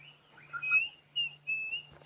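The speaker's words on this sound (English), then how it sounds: "the one you can get confused with, the thick-billed, is the Klaas's cuckoo" A Klaas's cuckoo, a small emerald-green bird, whistles a short series of clear, high, sweet notes in quick repeated phrases, heard alone and fairly faint over a low steady hum.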